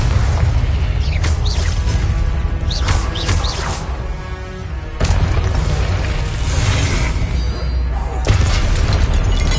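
Repeated booming blasting-spell explosions in a Harry Potter video game, heavy crashing bursts layered over a constant loud rumble of combat, with shouted voices among them.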